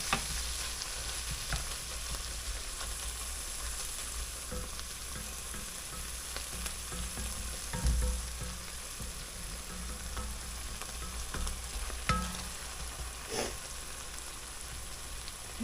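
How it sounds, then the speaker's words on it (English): Butter sizzles and crackles steadily in a hot skillet, a continuous close frying hiss with occasional sharper pops, heard alone with no talk. "Hear that butter sizzling in there?"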